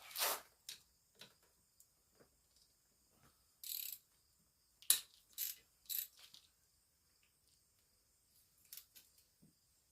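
A ratchet works on the 12 mm foot peg bar bolts of a Kawasaki KLX110 dirt bike, making short bursts of quick clicking separated by quiet pauses, close by and fairly faint.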